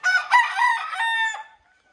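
A rooster crows once, loud and close, a single full cock-a-doodle-doo lasting about a second and a half before cutting off into silence.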